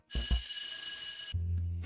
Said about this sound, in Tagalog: Tumunog na ang kampana para sa klase.